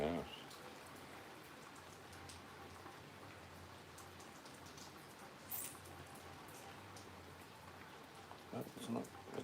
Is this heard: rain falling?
yes